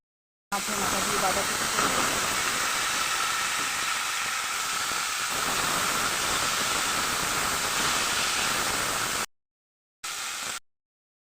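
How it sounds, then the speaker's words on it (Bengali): Potatoes frying in oil in a pan, browning to a reddish colour: a steady, loud sizzling hiss that runs unbroken for about nine seconds, then cuts out, with a brief burst of sizzle after a short gap. "এবার আলুটা লাল লাল করে ভেজে নিচ্ছি"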